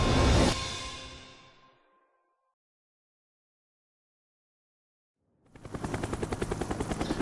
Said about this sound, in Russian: Начало эпизода придется полетать. Опять на вертолете.